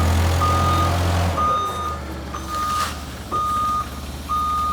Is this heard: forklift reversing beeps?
yes